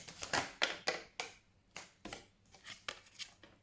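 Tarot cards being shuffled, a series of crisp, close riffling and snapping bursts in an uneven rhythm, quiet and without talk.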